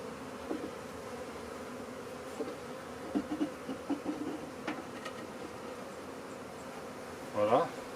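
Honeybees from a bare swarm hum in a constant low drone, with individual insects buzzing closer in brief bursts, one passing loudly near the end.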